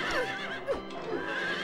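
A horse neighing in the video game Silent Hill 3, a short wavering whinny with a clip-clop of hooves, heard clearly and close.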